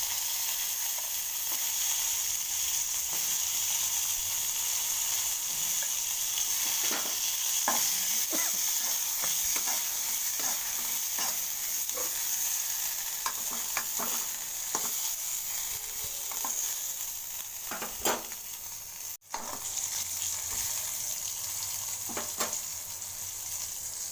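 Corn kernels frying in oil in a pan, a steady close sizzle running throughout with scattered small pops and occasional stirring scrapes.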